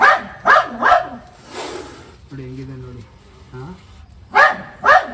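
Loud, rapid barking from a nearby frightened dog in short clusters, broken by a man's speech in the middle, near a spectacled cobra and a bird's nest.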